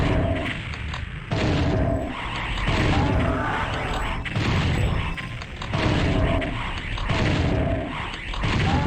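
Rocket launcher explosions in Doom 64 played with fast monsters: continuous heavy booms and crashing blasts rolling one into another, loud and dense throughout with gritty mechanical game noise.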